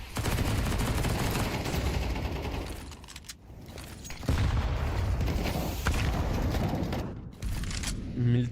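Rapid gunfire rattles almost constantly during a Counter-Strike match, with a grenade exploding among the bursts while a caster talks over the action.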